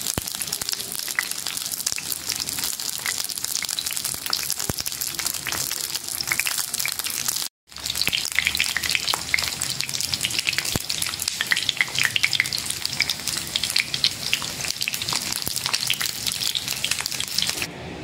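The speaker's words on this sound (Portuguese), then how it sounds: "Cortei as abobrinhas na metade e agora eu vou fritar um pouco" Zucchini halves fry in a pan with a loud, steady sizzle that runs without a break apart from one brief dropout in the middle, no voices.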